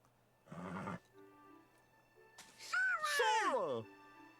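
A horse in the video game Kingdom Hearts III lets out a loud, close neigh that falls in pitch and is preceded by a deeper snort-like animal call, with no talking over it.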